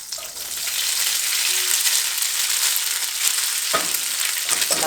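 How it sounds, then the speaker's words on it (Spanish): Drained pasta frying in butter in a skillet, giving a loud, steady sizzle that runs throughout, with a few clinks and stirring scrapes near the end and no talking. "Ahora en un sartén vamos a agregar la mantequilla para enseguida agregar la pasta que hayan escogido."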